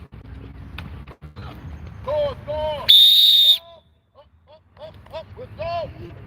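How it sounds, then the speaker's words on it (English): A coach blows a sharp, piercing whistle blast at an offense-defense youth football development camp, cutting in loud and sustained for about half a second between short bursts of speech and shouts on the field. "Stop on the whistle."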